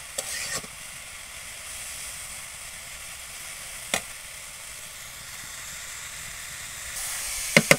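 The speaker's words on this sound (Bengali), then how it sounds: "আমি ভালো মতো করে নাড়াচাড়া দিয়ে নিই, দিয়ে 1-2 মিনিট জাল দিলে আমার শাক রান্না কমপ্লিট হয়ে যাবে" Kalai greens frying in a pan give a soft, steady sizzle close by, with a few sharp clinks of the stirring utensil against the pan and no talk.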